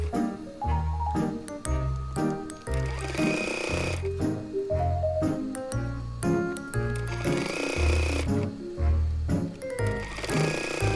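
Sewing machine stitching a flat-felled seam on fabric, its rapid needle chatter running in repeated bursts separated by short pauses, close and clear with a faint musical backing.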